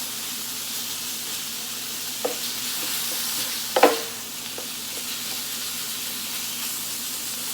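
Meat browning in a pan as the base for a homemade ravioli sauce, a soft, steady sizzle broken by a couple of brief utensil scrapes, with no voices.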